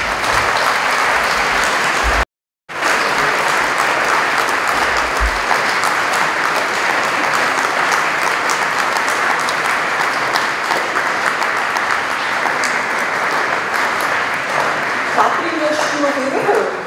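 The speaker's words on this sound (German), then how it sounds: "Ich denke, Sie haben einen grossen Applaus verdient." Sustained audience applause at a community honours ceremony in Hergiswil, dense steady clapping from a large crowd lasting over fifteen seconds, briefly cut near the start, with scattered voices.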